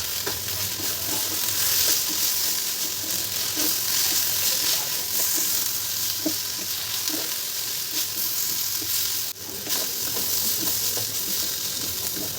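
Okra and potato with turmeric, salt and Kashmiri chilli powder fry loudly in a pan, a dense continuous sizzle with scraping stirring strokes throughout and one brief dip near the end.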